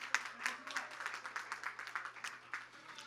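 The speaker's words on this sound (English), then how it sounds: "Please give a round of applause to Time Television" A modest audience at a television station's anniversary event claps in a fairly steady, rhythmic patter, individual hand strikes distinct and somewhat distant in a quiet hall.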